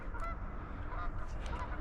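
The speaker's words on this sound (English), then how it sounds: "that whistling high-pitched call is an American widgeon, according to Merlin" American wigeon on the water during a morning of waterfowl watching, giving short whistled high-pitched calls in a few quick bursts, faint and mid-distance over low background noise.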